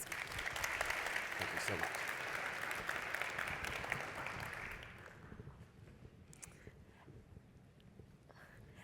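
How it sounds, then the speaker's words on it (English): An audience at a medical conference main stage applauds loudly and steadily for about five seconds, then the clapping fades to scattered claps while a voice speaks briefly over it. "a round of applause, please"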